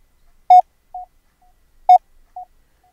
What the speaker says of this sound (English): you're going to listen to your own side tone through your computer